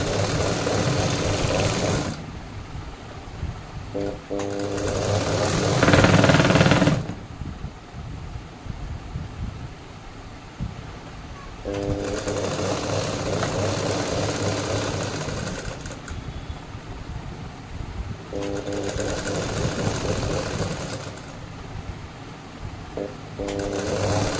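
A sewing machine stitches the back panel of a blouse in long, loud whirring runs broken by brief pauses, close by and steady, with no talking over it.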